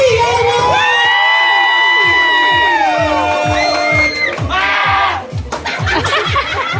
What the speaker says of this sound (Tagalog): Parinig po ng malakas na palakpakan na may kasamang hiyawan!